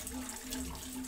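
Clean water running from a tap in a steady, unbroken rush, close and moderately loud, with no one speaking.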